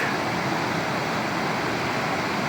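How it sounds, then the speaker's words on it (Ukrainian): A small mountain waterfall swollen by rain, flowing in frost at minus five with steam rising, gives a steady, dense rushing wash with no breaks, close and moderately loud. "Водопадик."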